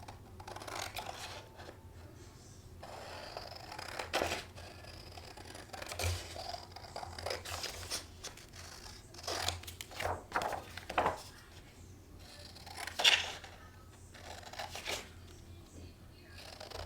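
Scissors cut through cardstock for a 1.5 inch book spine, giving faint, close, irregular snips and scraping rustles against a quiet room, with no one talking.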